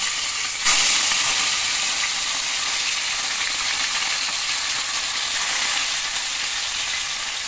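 Continuous loud sizzling of fish frying in hot oil in a kadai, a dense crackling hiss that holds steady throughout with a brief sharper burst near the start.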